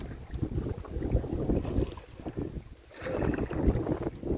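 Strong headwind buffets the microphone while someone paddles a canoe on a lake in a national park. The gusts rumble low and uneven, with a short lull in the middle, and there is no talking.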